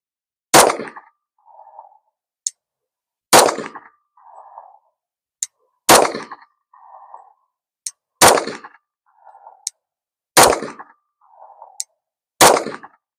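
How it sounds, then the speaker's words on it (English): Pistol shots fired in pairs at steel targets on a range, sharp loud cracks at a regular rhythm every two to three seconds, each followed by a faint ringing ping of metal, with no talking. "finish taking all your shots before you go down and look"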